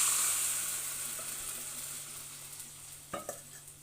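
Whisked curd poured into a hot tempering pan with sautéed curry leaves, a soft sizzle that fades gradually, then a few short stirring clinks near the end.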